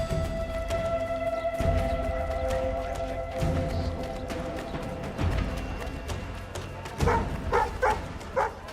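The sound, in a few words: dog barking in the video game Assassin's Creed III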